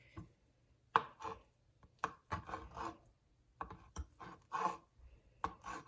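A knife slices through soft boiled eggs on a cutting board for tuna salad, making a series of irregular, close, crisp taps and chops with short pauses between cuts.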